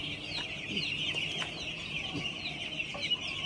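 Many chickens cluck and chirp continuously in a crowded poultry house, a dense steady chorus with a few sharper calls standing out.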